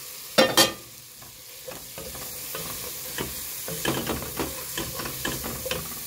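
A sharp clatter at the start, then light stirring and scraping of fried taro pieces in a pan of cumin and chilli masala with a soft sizzle underneath, scattered taps continuing throughout.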